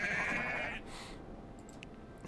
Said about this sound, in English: So let's add some goats.